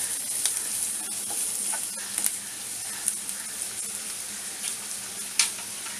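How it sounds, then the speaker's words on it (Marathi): Chopped onion sizzles in hot oil tempered with curry leaves for a dhaba-style chicken masala, a steady bright hiss with occasional sharper pops and crackles as it is stirred, close and alone. "आता मी हा कांदा टाकते, हा कांदा आपल्याला चांगला परतून घ्यायचा आहे"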